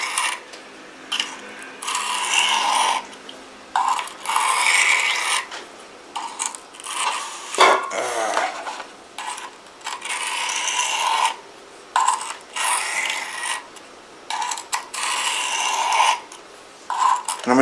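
A kitchen knife is drawn across a whetstone in repeated single gritty scraping strokes separated by short pauses, close and clear with no talking.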